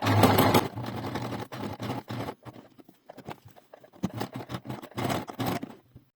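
Sewing machine stitching the side seam of a basic shirt, close and fairly quiet, running in short bursts of rapid stitching separated by brief pauses.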